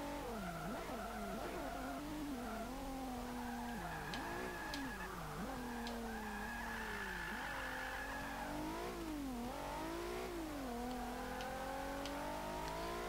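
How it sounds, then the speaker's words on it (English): A 2014 Infiniti Q50 Eau Rouge in Forza 5: a straining engine rises and falls through gear changes while tyres howl in long, wavering squeals, loud and continuous over a dense roar of road noise. "Tyres are screaming in pain from all this power."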